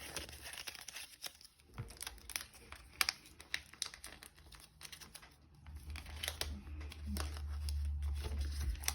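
Paper cash bills handled and slipped into envelopes, soft crinkling and rustling close by with small taps, then a steady low hum rising in the background.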